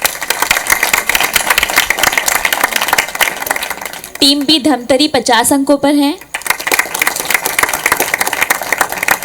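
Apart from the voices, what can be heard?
loud applause at a quiz show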